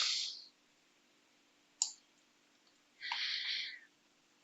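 A few short, sharp mouse clicks on a software run button sound close and crisp against near silence, spaced irregularly, with one slightly longer click burst.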